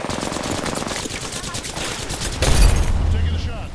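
Rapid automatic gunfire crackles in a video game battle, with dense bursts of shots running throughout and a heavier blast near the end. A player's voice talks over the shooting.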